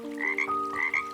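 A small frog croaks from a creek behind a house, a steady sung call with two bright rising pulses, loud and close with no talk over it.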